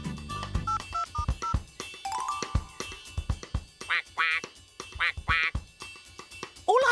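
Cartoon ducks quack in a children's animated farm show with Tractor Tom, giving several short nasal bursts in quick runs over background music and sound effects.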